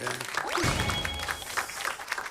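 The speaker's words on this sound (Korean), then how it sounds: "저는 큰 박수 보내드립니다" Applause from the studio audience on a Korean TV singing show with a judging panel. The broad clapping is steady and moderately loud throughout, with a brief sliding tone and a short voice near the start.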